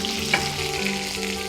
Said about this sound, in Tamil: கொத்தவரங்காவை போட்டுடலாம்.